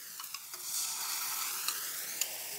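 Sour yogurt goes into a taro flower curry sizzling in a pan, giving a steady close hiss of frying with a few sharp spatula scrapes and stirring clicks, no talking.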